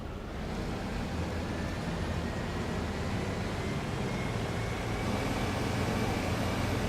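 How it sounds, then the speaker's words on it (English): Deutz Fahr 7250TTV tractor in a video game mod, its engine running as a steady, loud broadband drone with a dense low-end rumble that holds unchanged throughout, with no voices. "There are 2 engine notes which I really like."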